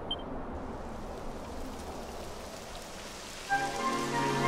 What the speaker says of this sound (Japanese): やだ、雨が降ってきたわ。